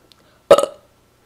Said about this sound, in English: sends his regard with a healthy burp